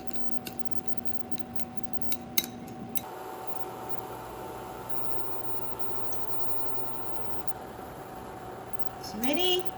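A spoon lightly clinks against a bowl while homemade hotpot dipping sauce with Lao Gan Ma chili oil is mixed, a few brief taps early on over a steady background hum, then quiet.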